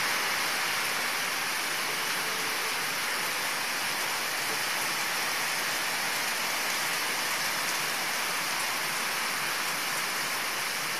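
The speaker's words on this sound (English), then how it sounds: "It's been more of a steady medium rain, and then it'll slow down a little bit, and then a more steady medium rain." Steady medium rain falls during Hurricane Iselle, an unbroken, even hiss of drops on surfaces with no voices over it.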